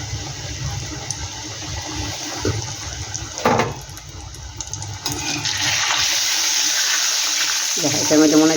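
Potato french fries fry in hot oil over lowered heat, a brief stirring clatter giving way to a steady, close sizzle that swells and holds to the end.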